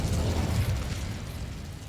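A fiery burst from the Incendio spell in Hogwarts Legacy, cast at a battered old bridge: a low, rumbling whoosh of flame that swells in the first second and tails off into a steady roar.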